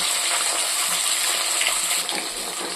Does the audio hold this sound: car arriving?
no